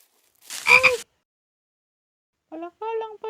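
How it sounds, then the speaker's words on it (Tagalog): A frog croaks once loudly up close, then after a pause gives a quick run of three shorter croaks, with silence between calls in a Filipino animated scene. "Palaka lang pala."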